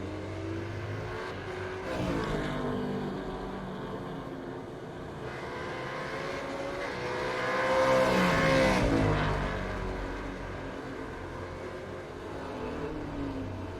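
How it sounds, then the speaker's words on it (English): A race car idles beside the track in the iRacing sim at Winton Motor Raceway during a Supercars Championship round, a steady engine drone that swells louder in the middle as passing cars mix in. "Sounds like there's a car parked up on the side of the track here, idling."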